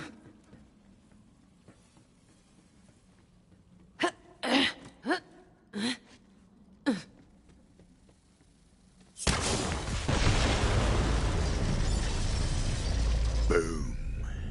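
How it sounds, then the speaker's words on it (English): A large explosion in the Borderlands 3 video game erupts suddenly after several sharp gunshot-like bangs, then roars on as a loud, dense, sustained blast and rumble to the end. "The explosion echoed through the forest"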